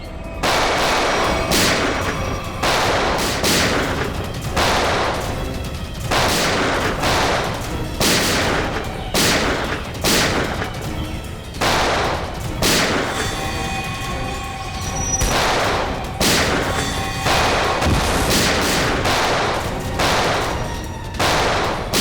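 Rapid gunfire in a crime drama shootout, dense volleys of sharp loud shots repeating throughout with barely a pause.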